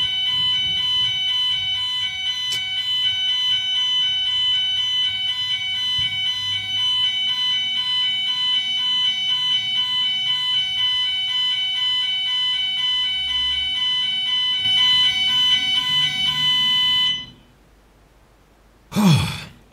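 A fire or smoke alarm sounds indoors in a steady, loud, piercing repeated tone that runs for about seventeen seconds and then cuts out abruptly, followed by a brief low thump.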